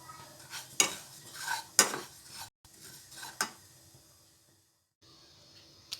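Sesame seeds dry-roasting in a pan over a medium gas flame, with repeated scraping, stirring strokes and a few sharp clinks of a utensil against the pan, then a brief quiet pause before stirring resumes.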